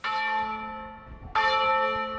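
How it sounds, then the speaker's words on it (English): Church bells ringing, two resonant strikes with a long humming decay between them, loud and clear with no voices. "Church bells especially annoy them."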